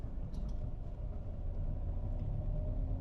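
A Toyota Etios with 3.34 lakh km on it pulls steadily in second gear without throttle, its low engine drone and road rumble continuous and even from inside the cabin.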